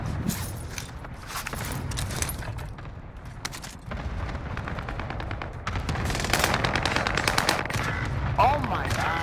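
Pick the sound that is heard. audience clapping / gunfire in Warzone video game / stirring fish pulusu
gunfire in Warzone video game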